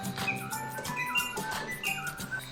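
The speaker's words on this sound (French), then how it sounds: "les oiseaux qui poussent la chansonnette comme de vrai" Little Live Pets Lil Birds toy birds sing in electronic chirps and warbling whistles, a steady run of repeated tweeting phrases heard up close against faint background music, with no talking.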